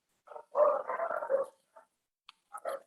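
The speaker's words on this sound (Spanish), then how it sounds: "los perritos que están ladrando, se debe escuchar un montón" Dogs barking nearby during a talk, a few rough, gargling barks and growls in a burst, then a pause and another short pair of barks, with clear silence between.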